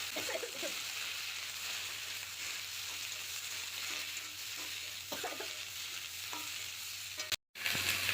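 Bottle gourd stems frying with potatoes in a pan give a steady sizzle close by, with scraping stir strokes throughout and a brief dropout near the end.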